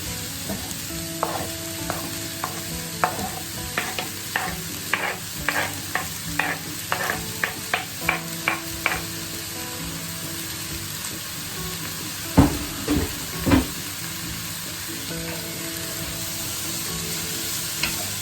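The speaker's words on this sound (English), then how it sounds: "once the onions are soft, we're just going to go in with the bacon" Bacon goes into a pan of softened onions and fries with a steady sizzle, broken by a run of sharp scraping and stirring knocks close by; nobody talks.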